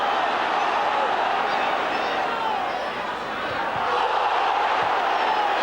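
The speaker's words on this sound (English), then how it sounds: "Crowd screaming for everything now every time the ball goes into the penalty box." A packed football stadium crowd at Leeds United versus Stuttgart roars continuously in the closing minutes, a dense, loud wall of screaming and cheering that swells and barely dips throughout.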